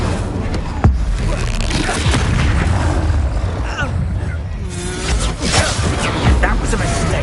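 Fiery spell explosions in the video game Hogwarts Legacy during a trial battle, with sharp bursts and crackling blasts in quick succession while a voice shouts spell names over them.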